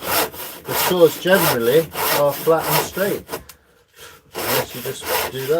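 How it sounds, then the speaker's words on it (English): A hand saw cuts through wood in steady back-and-forth strokes, each pass a rasping rub, close and fairly loud, with a brief pause partway through. Someone speaks over the sawing. "once you've got your saw set into the wood"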